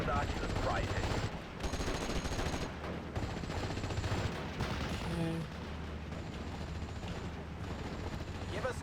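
Machine-gun fire in the WWII strategy game Steel Division Normandy 44, with dense, continuous bursts of automatic gunfire and distant battle noise that hold steady and loud for the whole stretch.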